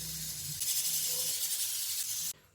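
A mixer grinder whirs loudly, blending stuffing ingredients for stuffed bendi (okra) fry into a fine powder, a steady hissing rush that stops abruptly near the end.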